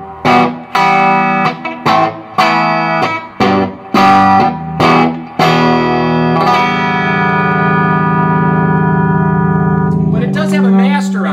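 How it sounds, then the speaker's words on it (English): Guitar played through a 1x12 combo amp with long tank reverb, a series of loud plucked chords and notes each ringing out with a lingering reverb tail, finishing on one long sustained chord. "they're a long tank reverb, which gives you more reverb"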